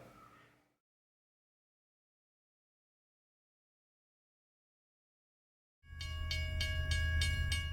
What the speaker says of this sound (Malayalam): പൂനെ എറണാകുളം എക്സ്പ്രസ് 1ാമത്തെ പ്ലാറ്റ്ഫോമിലേക്ക് എത്തിച്ചേരുമെന്ന് പ്രതീക്ഷിക്കുന്നു.